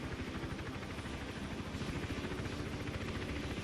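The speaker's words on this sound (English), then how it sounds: "Wait for the helicopter to have gone" A helicopter hovers in the stealth video game Hitman Absolution, a steady, fairly faint rotor chop with a rapid rhythmic pulse over continuous engine rumble, unbroken and with no voices.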